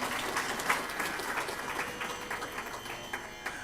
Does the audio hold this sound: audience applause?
yes